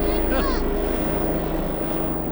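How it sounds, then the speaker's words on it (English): A helicopter flying low overhead outdoors in a snowy area, a loud, steady, close rotor and engine drone with a throbbing low beat that holds throughout. "crazy helicopter flew by"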